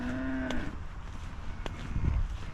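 Cattle on a farm moo with a low, drawn-out call, lowing close by and loud over steady outdoor background noise.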